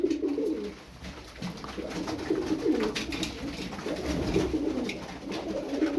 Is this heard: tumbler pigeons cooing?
yes